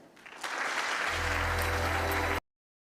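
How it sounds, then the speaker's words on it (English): An audience at a demo day event breaks into loud, sustained applause that swells quickly and then cuts off abruptly. "So please give a huge round of applause to Protected."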